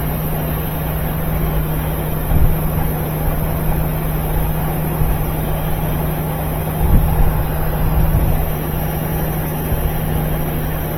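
A GE washing machine with a newly fitted motor spins out, producing a steady, loud mechanical hum and whir that runs continuously with little change and no talking.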